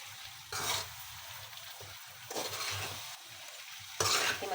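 Fried vegetables are stirred into a turnip and meat curry in a pan, heard as three separate bursts of sizzling and scraping stirs with quieter bubbling between them, close by and without any talking.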